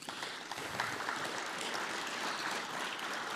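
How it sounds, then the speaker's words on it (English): A conference audience at a space resources event gives a speaker steady, diffuse applause, an even rustling wash of clapping heard from a distance that holds for the whole stretch. "So a round of applause for Marvin."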